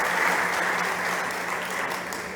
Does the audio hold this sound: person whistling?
no